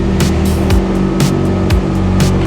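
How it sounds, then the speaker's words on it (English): A fishing boat engine running hard at about 3,000 RPM while heading into a canal, a loud steady drone with rhythmic pulses as the hull slaps the water, no talk. "you can hear the sound of the engine now"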